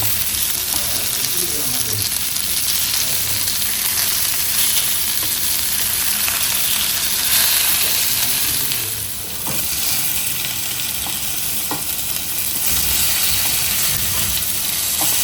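Mackerel sizzles loudly and continuously in a hot pan, a dense, close crackle of frying with occasional louder spits and small clinks.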